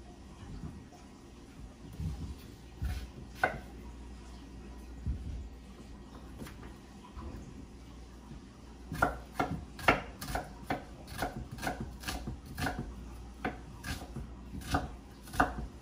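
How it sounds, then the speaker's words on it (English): Garlic being chopped with a knife on a board while preparing curry shrimp, starting as sparse scattered cuts and turning into a quick run of sharp, close taps in the second half, with faint kitchen background. "Garlic cut up."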